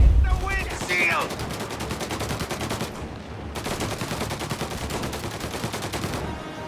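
Rapid bursts of Tommy gun fire from a Thompson submachine gun in the Mafia Definitive Edition video game, continuous loud automatic rattling with a brief pause near the middle, plus a shouted voice at the start.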